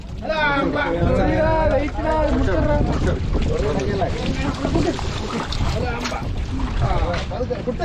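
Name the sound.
fishing boat at sea during squid fishing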